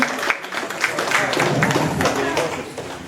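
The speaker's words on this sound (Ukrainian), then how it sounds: "Давайте оплесками привітаємо спортсменів." An audience applauds athletes at an awards ceremony in a fitness centre gym in Fastiv, a steady dense clapping wash that runs throughout with voices mixed in.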